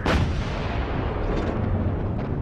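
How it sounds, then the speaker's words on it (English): A wartime explosion in a First World War documentary: a sharp blast followed by a loud, sustained rumbling roar that fills the whole stretch. "Then there was another explosion,"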